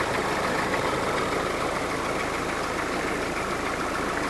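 A 1946 Willys CJ2A jeep with a 6-volt system, generator and oil bath air cleaner idles after sitting all winter, a steady, close, rough rumble with no voices.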